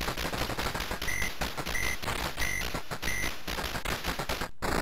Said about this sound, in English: This is auto fire. This is how slow it is.